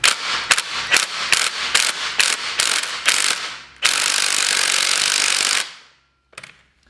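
Ratchet on a 19 mm socket loosening the strut top nut of a BMW E30, a run of loud close clicking strokes followed by a continuous rapid ratcheting spin that stops abruptly, then a faint clink.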